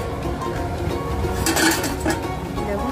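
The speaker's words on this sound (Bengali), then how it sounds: "বন্ধুরা, ঢাকাটা খুলে নিচ্ছি আর ভালো করে নাড়িয়ে নেব।" A metal lid comes off a cooking pot and a utensil stirs vegetarian cabbage over a low gas flame, giving a few close clinks and scrapes over a steady kitchen background.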